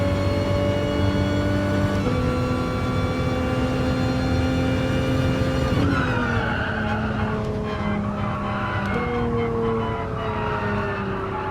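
A race car runs a lap in the video game Gran Turismo Sport, its engine a steady close, loud drone that shifts pitch through gear changes, with tire squeal and skidding toward the end.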